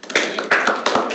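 At a commission meeting, hand clapping comes as a brief run of sharp, close taps in a few quick clusters, with no one speaking.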